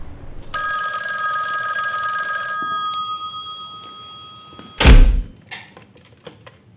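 Telephone ringing in a film scene: one long, loud electric bell ring, then a heavy thunk and some clatter as the handset is picked up.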